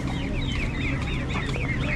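A hen clucks repeatedly among her chicks at a weekly market in Masal, Gilan, northern Iran, with the chicks' high peeping chirps layered over the steady clucking and a constant background hum of the bustling market.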